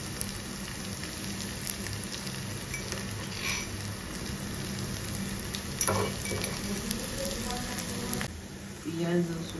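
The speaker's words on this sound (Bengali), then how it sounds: "পেঁয়াজ রসুন ভাজা হয়ে গেছে" Onion and garlic frying in a pan at home, a steady close sizzle and crackle with occasional clinks and a louder stir near the end, with faint voices underneath.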